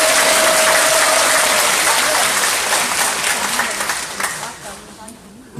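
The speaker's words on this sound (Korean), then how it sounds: "응원의 박수" A crowd at a civic talk-concert marking a city mayor's first anniversary claps loudly in a dense, roaring burst that gradually thins out, with a voice speaking over the fading applause.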